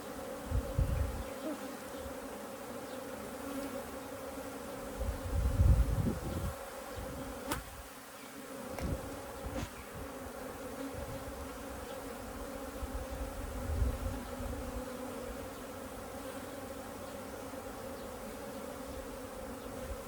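Honey bees droning steadily inside a healthy hive being inspected for its queen, a low constant buzz with a few louder swells and soft knocks, fairly faint overall.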